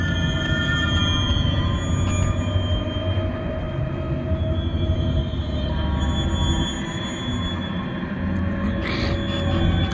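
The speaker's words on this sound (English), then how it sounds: "I think that's from a passing train, and it's transferring the sound into the chamber here." A passing train sounds through the wall of a lock chamber, a continuous loud rumble with sustained high-pitched wheel whining and squealing throughout.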